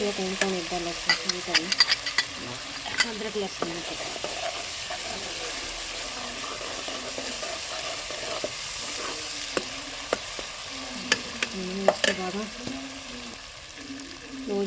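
Garlic and ginger fry in a pan with a constant close sizzle and scattered sharp clinks of stirring, while a person talks over the cooking.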